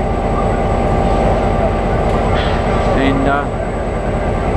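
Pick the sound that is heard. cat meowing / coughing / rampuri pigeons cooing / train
train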